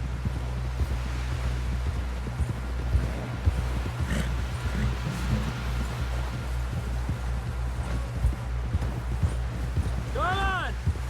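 Horse hooves galloping in the video game Red Dead Redemption 2, a steady rapid clip-clop running through the whole stretch under a continuous low rumble of music and ambience, with a brief vocal sound near the end.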